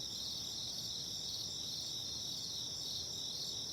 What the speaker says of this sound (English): Cricket Sounds for Sleep.